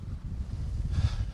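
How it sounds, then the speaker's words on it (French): Wind blowing over open sea in the Bouches de Bonifacio reserve, a steady low rumbling buffet against the microphone with a brief gustier rush near the end, no voices. "Ça se voit peut-être pas à l'image, mais il y a un peu plus de vent"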